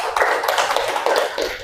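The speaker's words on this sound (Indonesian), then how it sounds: "Tepuk tangan Mbak Kalila" In a classroom, a group of children claps quickly and unevenly for a short burst of applause for a classmate.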